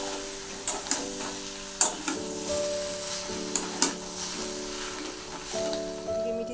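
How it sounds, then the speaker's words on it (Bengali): Soybean chunks fry in a pan, a steady close sizzle with several sharp stirring clinks and scrapes, while a bright, sustained musical tone carries on in the background. "সয়াবিন দিয়ে একটু কষিয়ে নেবো।"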